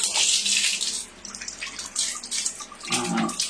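A tap runs water over a cat's food bowl in short splashy bursts, loud and close. The flow stops briefly between gushes.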